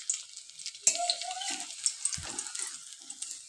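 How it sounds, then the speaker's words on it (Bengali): Egg fingers fry in hot oil with a steady, quiet sizzle, broken by a few soft knocks and stirring sounds as the pieces are flipped. "আবারও একটু আমি উল্টে ভেজে নিলাম"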